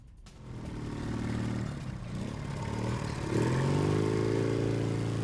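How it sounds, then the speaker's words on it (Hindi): Motorcycles in a bike parade rumble and rev together in a steady, loud engine drone, rising in pitch as a bike accelerates near the end. "ये देखिए पाकिस्तानी सेना की बैंड के साथ टीटीपी ने निकाली बाइक परेड।"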